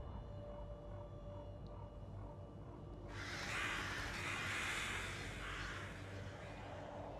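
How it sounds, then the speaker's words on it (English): Loud crow-like birds cawing in the game STALKER 2, a burst of harsh calls swelling in after a quiet ambient stretch and carrying on near and dense. "Loud birds."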